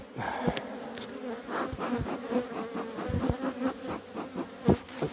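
Honeybee colony at an open hive infested with varroa mites, a dense steady buzzing close by with wings droning loudly and no voices.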